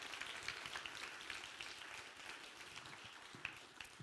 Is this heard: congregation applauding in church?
yes